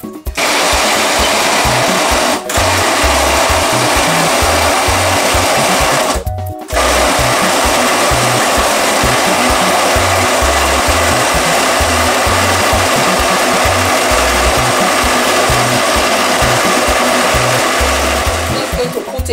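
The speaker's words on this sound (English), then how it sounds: "Just going to blend it." A kitchen blender whirs loudly and continuously while blending a drink, its motor droning steadily for nearly twenty seconds with two brief cuts where the power drops and restarts.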